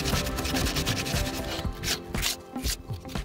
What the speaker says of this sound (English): I'm gonna take some sandpaper because I want to sand down those edges so I don't get a splinter